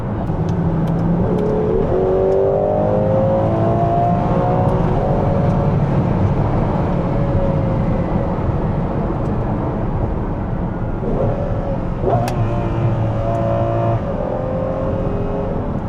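A Ferrari 12Cilindri V12 sports car engine roars continuously nearby, its pitch climbing and falling through repeated revs and gear changes, rich and throaty.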